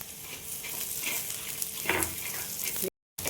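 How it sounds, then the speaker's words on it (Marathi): Peanuts frying in hot oil alongside garlic for green chili thecha, a continuous close sizzle with light stirring scrapes, cut briefly by a moment of silence near the end. "या घेतलेल्या एक वाठीभर शेंगा आपण त्याच्यात मिक्स करणार आहोत"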